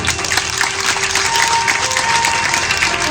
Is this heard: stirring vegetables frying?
no